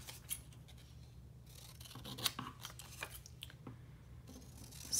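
Scissors cut out small paper notes with quiet, close snips and rasping scrapes. The cuts come irregularly, spaced apart, with faint background hum and no speech.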